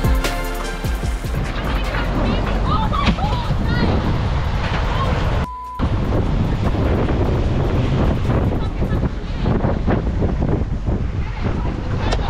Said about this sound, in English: We got some really nice wind on a rough 120-ish behind us, so it should be a pretty nice sail.